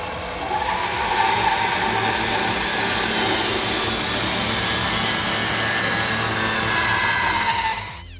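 A Scorpion 350 wood chipper driven off a tractor PTO shaft, chipping roadside brush, gives a loud, steady grinding mechanical roar with a constant whine that holds for about seven seconds and then cuts off.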